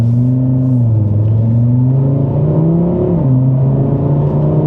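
An Audi RS3 engine, set to dynamic driving mode, drones loudly from close by and shifts pitch as the revs climb and drop through gear changes. The tone is a steady humming growl, with no talk.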